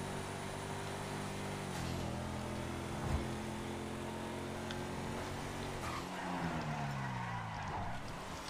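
Vehicle driving in GTA, a steady engine hum with pitch shifts as it speeds up and slows, at moderate level with no voices.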